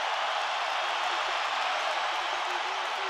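A boxing arena crowd at the Canelo Alvarez versus Gennady Golovkin fight roars steadily on their feet near the end of the bout, a dense, constant wash of cheering and clapping.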